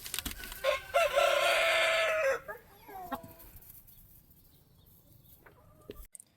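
Roosters crow loudly nearby, one long crow followed by shorter calls and clucks, then the yard goes quiet with a faint final call.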